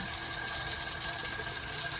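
Water streams steadily from an adjustable outdoor shower head, a continuous close hiss and splatter with no voices.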